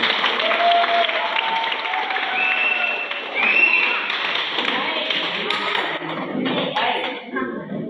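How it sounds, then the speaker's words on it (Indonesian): A school gathering in Indonesia gives a hearty round of applause, dense clapping from a crowd that stays strong and steady for several seconds before thinning out near the end. "Mari kita beri aplaus dulu"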